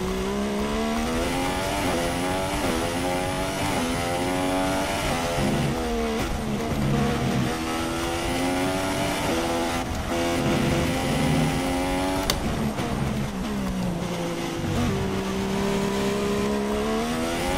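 A Formula 1 car in the F1 2016 racing game laps the Bahrain test track, its high-pitched engine loud and steady, rising and dropping through repeated gear shifts and revs, with brief tire squeal.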